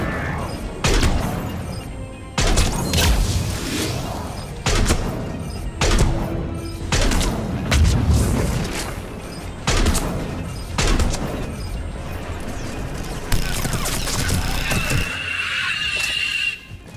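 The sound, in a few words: heavy gunfire in Mass Effect 3 video game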